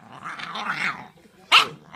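A dog growls in a low, rumbling run, then lets out a sharp yip or bark near the end, all close up indoors with no talking.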